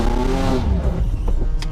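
A BMW E46 car engine revving hard during an attempted burnout, a loud, close, sustained roar that rises in pitch and holds, with no talking.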